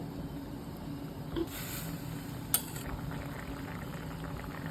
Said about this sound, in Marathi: छान उकळी आलेली आहे